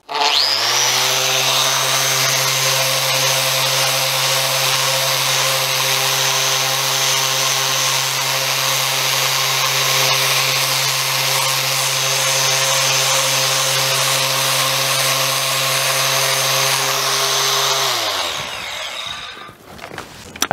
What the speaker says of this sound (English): I finished sanding this lightly just to make sure everything was together